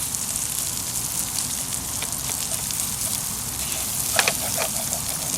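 Diced cold onion sizzling with pancetta in a hot skillet, a steady crackling hiss with scattered pops, moderately close and alone.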